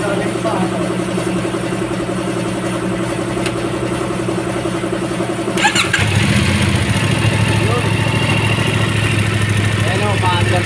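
A CF Moto 450cc adventure motorcycle cranks and fires up at a service station, its engine settling into a loud, steady idle close by, with voices talking over it.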